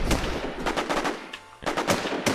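Gunfire in the video game WarZ Infestation comes as rapid bursts of loud, close shots with a brief lull midway before firing resumes.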